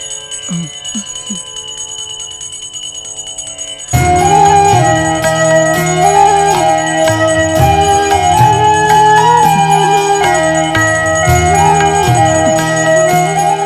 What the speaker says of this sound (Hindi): वो घंटी मुझे दो